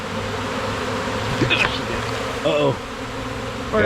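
Bees buzz during vacuum removal from an infested house, a steady droning hum close by, while a person speaks briefly.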